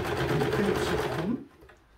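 A sewing machine stitches a skirt waistband in a steady, fast whirring run lasting just over a second, then stops, leaving near silence.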